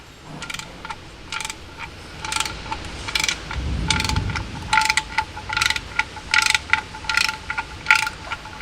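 Repeated crisp ratchet clicks in short bursts as a thread chaser is turned into a leaking oil pan's drain threads, close and rhythmic over a steady background hum.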